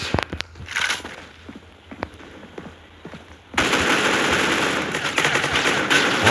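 Gunfire in a first-person video game: scattered single shots and clicks at first, then a loud, sustained burst of rapid automatic fire that fills the rest of the moment, with no talking.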